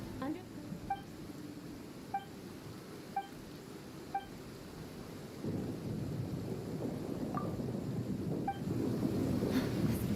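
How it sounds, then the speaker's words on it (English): Thunderstorm in the video game Genshin Impact: steady rain and low rolling thunder that swells louder in the second half, with faint, evenly spaced electronic beeps early on. "The thunder drowns out all other sounds, hampering my perception of the surrounding environment."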